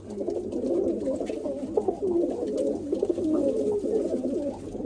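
Pigeons in a coop coo continuously up close, overlapping low rolling calls that rise and fall in soft throbbing phrases against faint background hum.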